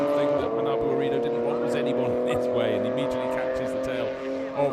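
Race cars circling Fuji circuit in GT World Challenge Asia qualifying, with a steady layered engine drone and a passing car near the end, under continuous commentary.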